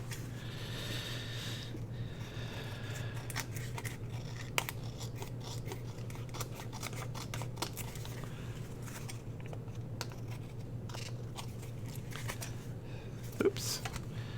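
Scissors snip through paper being trimmed for a handmade art journal with a floating spine, a few quiet cuts and paper rustles at close range over a steady low hum, no speech.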